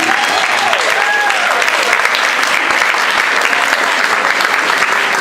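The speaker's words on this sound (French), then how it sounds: "Est-ce qu'on peut déjà applaudir?" Audience applause at a Queen of Sheba election during an African Month celebration, a dense, steady clapping that fills the room for several seconds, with a few whistle-like tones and faint voices mixed in.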